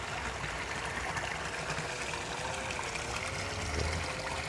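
A fresh stream flowing in a green valley orchard at Kasembon, a steady, fairly loud broadband rush of water that continues unbroken, with no talking.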